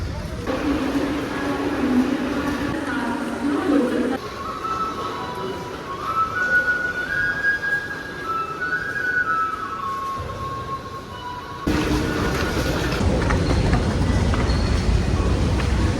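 Busy station ambience with a steady low rumble and hum of rail traffic, a rising and falling tone in the middle, and a louder surge toward the end.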